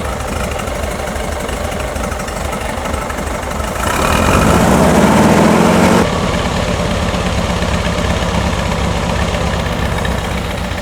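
A 1971 VW Bus engine runs steadily at high idle, loud and close, with a brief surge in revs in the middle before settling back to an even rumble.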